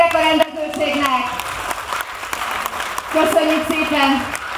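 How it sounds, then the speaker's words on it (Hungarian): Festival audience at a village fair day in Délegyháza, Hungary, applauding the organizers, a dense steady clapping that runs the whole time beneath a voice speaking or calling over it. "Egy nagy tapsot kérek a rendezőségnek!"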